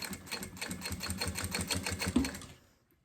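A sewing machine stitches the synthetic leather lining of a women's wallet, producing a close, rapid rhythmic chatter that runs steadily before stopping near the end.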